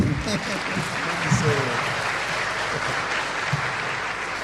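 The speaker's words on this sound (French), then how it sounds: "Applaudissez-le pour l'encourager." An audience at a spelling competition applauds a contestant to cheer him on, a steady broad rumble of clapping throughout, fairly soft and distant, with voices murmuring over it.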